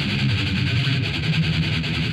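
Heavily distorted Ibanez RG550 electric guitar holds a thick, buzzing sustained chord, loud and saturated, with a slight pulsing texture and no voices.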